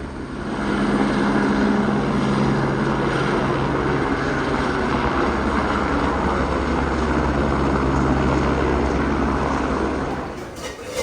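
A tour helicopter flying near a heliport by the glaciers in Alaska, its engine and rotor making a loud continuous drone that holds steady throughout before easing off at the end.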